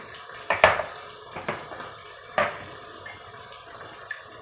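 Red pepper flakes, black pepper and thyme sauté in a pot with meat and chickpeas, marked by a few sharp metallic spoon knocks and scrapes against the pot between quieter stretches.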